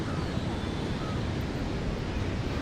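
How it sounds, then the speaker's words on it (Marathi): Sea surf rolls in on the Konkan coast near a Ganpati temple in Ratnagiri, a steady, unbroken roar of foaming waves mixed with wind across the whole stretch. "त्याच्या बाजूलाच फेस करून समुद्र आहे"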